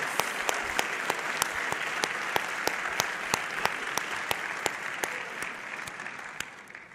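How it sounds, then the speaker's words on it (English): An audience at an oratorical contest applauds the semifinalists, a sustained, even round of clapping with a few distinct sharp claps standing out, fading slightly at the end. "please give them another round of applause"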